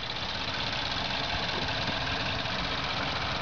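A 2012 Chevy Equinox with the 2.4-liter four-cylinder Ecotec engine idles steadily, a constant close low rumble with a faint knock-like texture and no voices over it.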